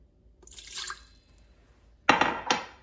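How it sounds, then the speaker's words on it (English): Half a cup of water pours into an Instant Pot in two short splashy bursts, a softer trickle followed by a louder close pour, faint and with quiet gaps. "and add half a cup of water"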